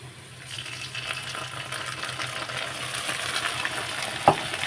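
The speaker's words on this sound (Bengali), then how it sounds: "আদা রসুনটা ভালোভাবে একটু পেঁয়াজের সঙ্গে কষিয়ে নেব" Ginger and garlic sizzle and fry with onions in a pan, a continuous crackle with a brief clink of a utensil near the end.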